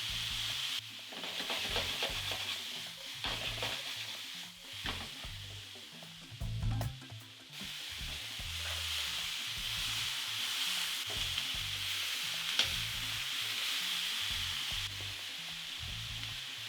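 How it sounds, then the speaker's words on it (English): Garlic, green and white onions, thyme and rosemary sizzle in a pan alongside mushrooms and beef, a steady frying hiss broken by soft stirring scrapes and low bumps throughout. "Add all the garlic in there, the onions, the green and the white onions, thyme, rosemary."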